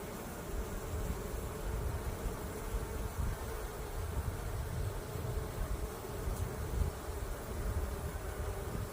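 A dense, continuous hum of many honeybees buzzing around a busy hive, steady and fairly close with no talking.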